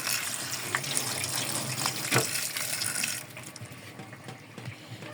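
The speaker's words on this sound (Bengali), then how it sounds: "এর মধ্যে একটু ঠান্ডা পানি দিয়ে দেবে" Cold water poured into a pot of half-boiled tutti frutti pieces, a steady gushing splash like running tap water that eases off toward the end.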